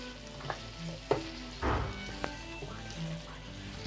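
Chopped onions, half a cup, being stirred into frying chicken keema with potatoes and peas; a soft steady sizzle runs underneath with several scraping stir strokes, the loudest a brief burst near the middle.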